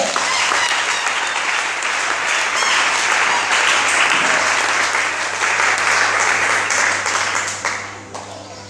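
A church congregation applauds in a loud, sustained wash of clapping that fills the room, with voices mixed in, then tapers off near the end.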